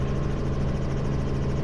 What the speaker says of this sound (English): this is a Robinson R44 Raven 2